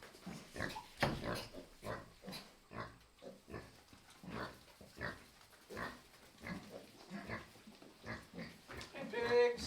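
Pigs on a farm grunt and oink repeatedly at close range, short snorting bursts in an irregular rhythm, with a person's voice speaking among them.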